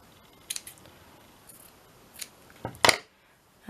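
Scissors snip through coloured paper in a few sharp, close cuts, spaced irregularly with quiet gaps between, ending in a quick double snip.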